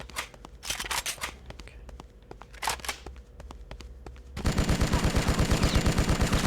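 Rapid automatic gunfire in a first-person shooter video game, loud dense bursts that suddenly take over after a stretch of sparser shots and clicks, continuing in a fast steady rhythm.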